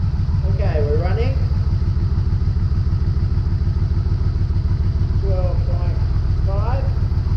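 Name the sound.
Yamaha Vmax motorcycle engine idling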